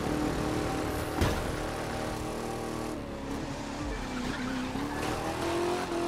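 A Ford Crown Victoria in the racing game The Crew 2 brakes hard and skids, its tires squealing over a loud, continuous engine roar, with a sharp thump early on and another squeal near the end.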